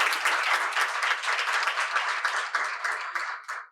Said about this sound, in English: Let's give Dr. Charles another round of applause